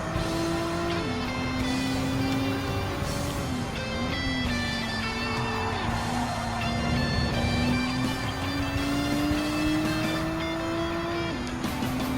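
Nissan Z Performance '23 engine revving steadily in Gran Turismo 7 at Autodrome Lago, a continuous loud drone whose pitch climbs through gear changes, with a faint whooshing layer behind it.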